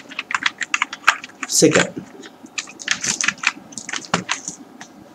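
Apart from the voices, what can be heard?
typing code on a computer keyboard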